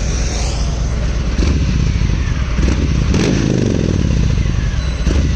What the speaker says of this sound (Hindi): साउंड चेक करो, साउंड बहुत गजब है। ऐसा लग रहा है ऐसा ना कोई प्लेन का इंजन चालू हो जा रहा है।